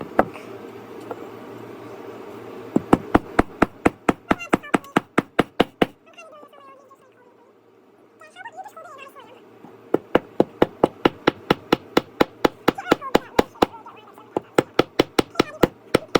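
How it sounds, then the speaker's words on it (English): A child hammers while building a toy boat, with two long runs of quick, sharp, close knocks separated by a pause in which people talk. "Oh, guys, you need to see me hammer this."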